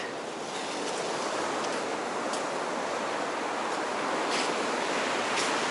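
Sea surf washing onto the shore at Zelenogradsk, a loud, steady broadband rush of breaking waves with gentle swells in intensity and no talking.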